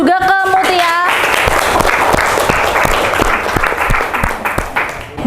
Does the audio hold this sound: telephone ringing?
no